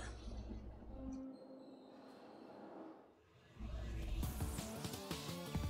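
Sky Train stage of the Streets of Rage 4 video game: a continuous rumbling rail-car drone with metallic wheel clatter, easing briefly mid-clip, then swelling louder with busier rattling and game effects.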